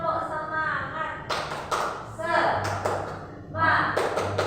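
A standing group of people performs 'tepuk semangat', a rhythmic clapping routine, with sharp bursts of claps landing in a pattern between chanted voices nearby.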